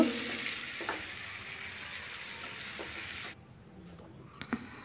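Tandoori chicken tikka pieces frying in oil in a pan, a soft even sizzle with a few stirring scrapes that drops away abruptly partway through, leaving quiet with faint clinks.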